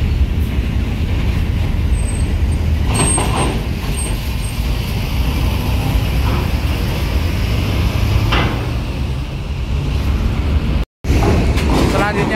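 A Palembang–Jambi intercity bus, body number 021, rumbles past on the road with a steady low engine drone and a brief air-brake hiss, heard under a voice talking.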